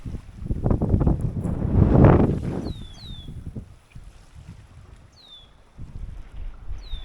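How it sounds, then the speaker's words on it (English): Wind gusts buffeting the microphone at a coastal cove at high tide, a loud roaring rush that swells then eases, with occasional bird chirps far off. "It's been windy for a few days here."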